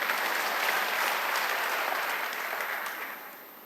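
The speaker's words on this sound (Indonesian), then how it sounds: "Nah sekarang boleh tepuk tangan." A congregation applauds during an online church service, a dense, sustained wash of clapping from many hands that holds steady and then tapers off toward the end.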